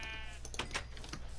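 Minecraft sheep bleat twice in quick succession, short wavering calls over a low, steady background rumble, fairly quiet and with no speech.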